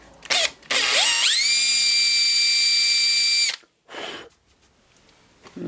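A drill bores side dot holes into a guitar neck for a seven-string build. It spins up with a rising whine and holds a loud, steady pitch for about three seconds, then winds down, followed by brief handling noise.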